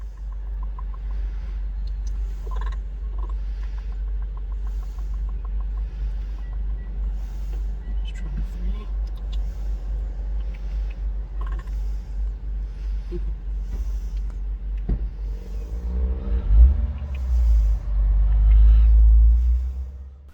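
A car rolls along the road with a constant deep rumble and vibration, swelling louder near the end, while faint voices speak inside the cabin.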